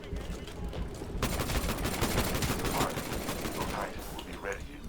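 Rapid bursts of Titanfall gunfire on an airbase map, including a smart pistol, crackling steadily and fairly loud for several seconds while a player talks over it.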